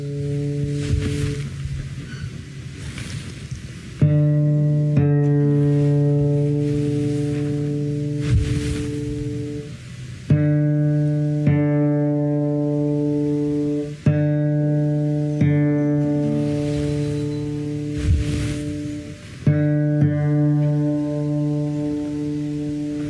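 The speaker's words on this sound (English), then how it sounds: "The equivalent of playing an open fourth string, meaning there is no fingers on the fretboard." Acoustic guitar open fourth string plucked repeatedly during tuning, each note ringing and sustaining for several seconds before the next pluck, clear and close with no talking.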